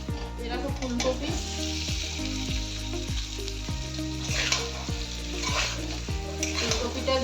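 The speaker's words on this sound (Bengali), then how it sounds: "ফুলকপিটা দিয়ে আমি কিছুক্ষণ কষিয়ে নেব" Fried potatoes and cauliflower sautéing in a cooked spice paste, a steady sizzle with repeated scraping stir strokes in a rhythmic pattern, close and fairly loud, with no talking.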